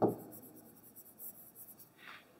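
Pen or chalk writing out the area of a triangle formula, a quiet scratchy stroking with short irregular strokes, close up and faint, after a brief knock at the start.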